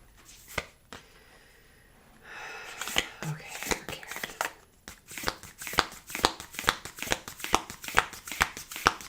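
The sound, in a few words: shuffling round cards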